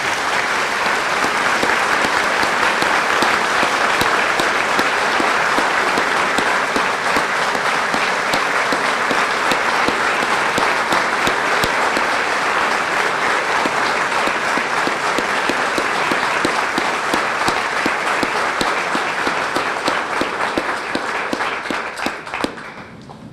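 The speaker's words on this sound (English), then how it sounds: "You stood up and gave him a standing ovation, and he deserves it." Indoor audience giving a long standing ovation at a formal police chief and deputy swearing-in ceremony, loud dense clapping sustained evenly for over twenty seconds before tapering at the end, with no talking.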